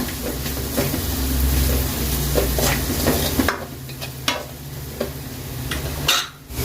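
Half a spoon of Kashmiri red chili powder is stirred into masala frying in a pan, giving a close, continuous sizzle with scraping stirs that eases off midway and then resumes.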